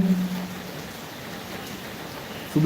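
Steady rain hiss fills the background, an even wash of falling drops with a brief low thump near the end.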